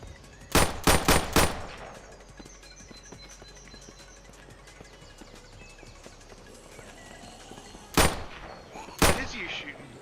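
Gunshots in a video game: a quick burst of four sharp reports near the start, then a long lull of background noise before two more separate loud shots near the end.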